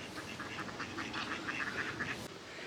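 Ducks and geese at a Martin Mere wetland give a steady run of quacks and honks over a dense waterfowl din, moderately close and continuous with no talk.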